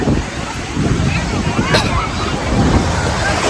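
Ocean waves wash steadily at crowded Velankanni beach, a constant roaring surf mixed with heavy wind buffeting the microphone and faint crowd babble in the background.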